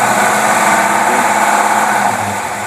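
A Buick engine fed by dual WCD carburetors, one lacking an accelerator pump, runs steadily at a fast idle close by, a dense buzzing drone that holds even for nearly three seconds with no voices.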